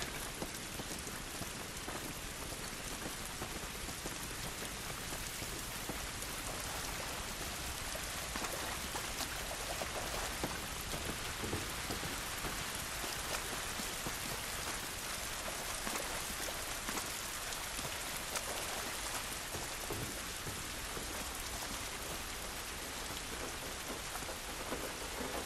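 Steady, dense rain pours outdoors in The Last of Us Remastered, a broad continuous hiss of drops striking surfaces around a quarantine zone, unbroken for the whole stretch with no voices.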